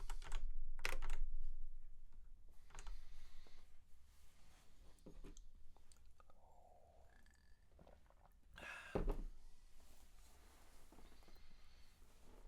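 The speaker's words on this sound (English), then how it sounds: "Nerd bloke's typing." Typing on a computer keyboard during a coding session, a run of quick clicky keystrokes, loudest at the start and then continuing in lighter bursts.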